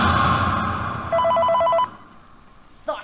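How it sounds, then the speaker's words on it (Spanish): A telephone in the Ultimate Custom Night video game gives one clear trilling ring of rapid pulsed tones, loud and close over a droning background, followed by a short sharp jolt near the end. "¿Y por qué carajo está sonando el tipo del teléfono?"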